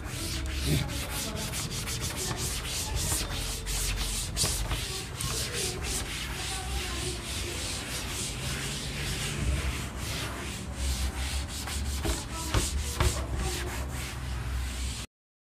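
An eraser rubs writing off a board in a physics classroom, making steady, rapid scrubbing strokes that continue for about fifteen seconds, close and moderately loud, with no talking.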